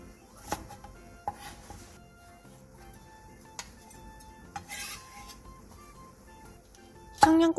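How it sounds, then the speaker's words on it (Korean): A knife cuts whole garlic cloves in half on a cutting board, giving a few sparse, distinct chops spaced out over several seconds against a quiet kitchen background, and a louder clatter at the very end. "통마늘 10개를 반으로 잘라주세요."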